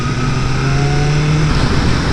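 A BMW M1000R motorcycle engine drones loudly at close range, holding a steady tone before a gear shift at about the midpoint changes its pitch as it pulls forward.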